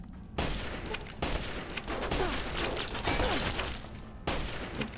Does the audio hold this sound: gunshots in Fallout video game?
yes